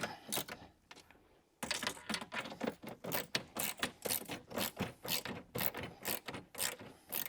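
Ratchet tightening roll bar bolts on a Jeep JLU, rapid close clicking strokes in steady bursts, a brief pause near the start, then continuous quick ratcheting.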